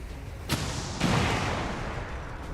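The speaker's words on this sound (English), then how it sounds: "Get that rocket going." A rocket launching in a Minecraft modpack game, heard as two abrupt broadband bursts about half a second apart that swell into a sustained loud roaring rumble lasting to the end.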